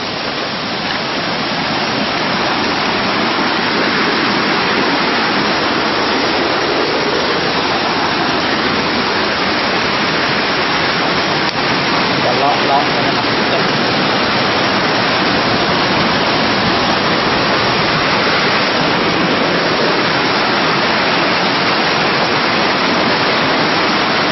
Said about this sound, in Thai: น้ำตกนี้นะครับ มันจะไหลลงไป อย่างหน้าผาสูง ข้างหน้านี่ครับ